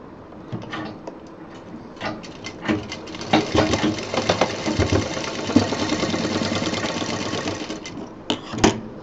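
A sewing machine stitches a zip onto a college bag, running in short starts and then a sustained close whirring hum with rapid needle clatter before stopping.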